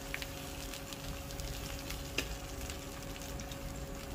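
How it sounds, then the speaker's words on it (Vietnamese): King oyster mushrooms frying in a pan over high heat, a steady faint sizzle and crackle with occasional small pops, no voices. "Nó nấm đùi gà cũng vậy, mình để vào mình chiên sơ cho nó hai mặt nó vàng vàng hết á"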